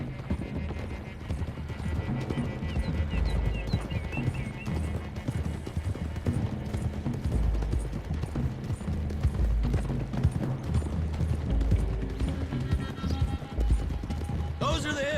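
Several horses gallop together in Red Dead Redemption 2, a steady rhythmic drumming of hooves that runs throughout, with an occasional whinny and a voice talking over it.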